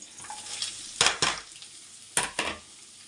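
Vegetables with ginger and green chillies fried in a pan for hotel-style noodles: a quiet sizzle broken by two pairs of sharp close spatula scrapes and clanks against the pan.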